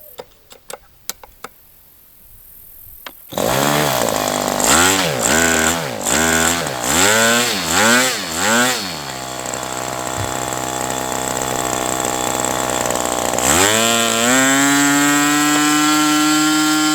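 A Magnum 65 GP model airplane engine with a three-blade prop, running rich, sputters through several rising and falling revs, then settles into a loud steady buzzing whine that climbs higher near the end; no talking.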